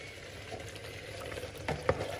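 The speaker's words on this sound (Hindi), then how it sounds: "मैं बटर तो नहीं डालूंगी, लेकिन ये थोड़ा सा मैं देसी घी इसके ऊपर डाल दूंगी" Desi ghee and vegetables sizzle softly in a cooking pot of curry as the heat is turned down, giving a quiet, steady frying hiss with a couple of brief clinks near the end.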